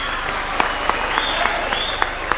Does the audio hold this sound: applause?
yes